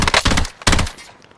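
A short burst of gunfire in a video game, two close, loud rattling volleys separated by a brief gap before fading out.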